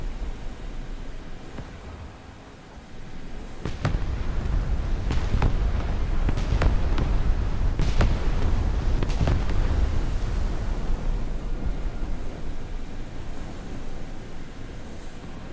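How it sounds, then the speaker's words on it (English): Artillery strike in a naval video game set on the US coast: a quiet low rumble, then a long barrage of heavy booming explosions with several sharp cracks, sustained and thundering before slowly easing, with no voices. "Artillery strike."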